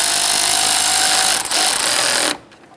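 A power tool with a 10mm socket runs up the bolts holding the radiator fan on a 2014-2018 Subaru Forester, giving a loud continuous whir close by with a brief dip in the middle, then stopping abruptly.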